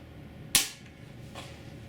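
A Daisy spring air rifle, its spring chamber freshly oiled, fires once over a chronograph: a single sharp, close crack that fades quickly, followed by a faint second click a moment later.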